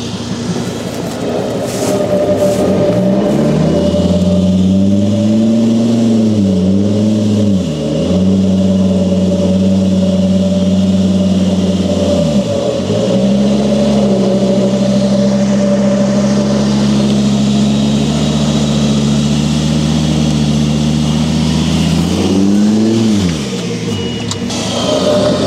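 An off-road vehicle's engine revs hard and steadily, a loud, close, droning roar whose pitch dips and climbs several times as the throttle is worked, with no voices over it.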